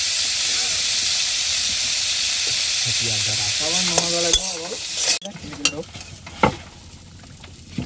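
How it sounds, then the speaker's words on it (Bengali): Prawns frying in oil in a pan while cooking on a boat in the Sundarbans, a loud continuous sizzling hiss that cuts off partway, followed by clattering and stirring sounds. "বন্ধুরা চিংড়ি মাছগুলো আমরা হালকা ভেজে নিয়েছি"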